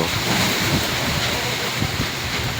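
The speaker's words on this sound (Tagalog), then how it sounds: "kusog na kayong hangin sa amuang lugar" A dense, steady roar of strong wind, strong enough to sway coconut palms and trees, blows against the microphone without a break.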